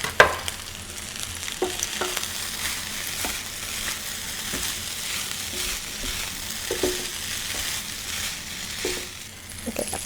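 Green onions stir-fried into Panda Express-style fried rice, a steady close sizzle with scraping spatula stirs and occasional clinks of the pan, no talking.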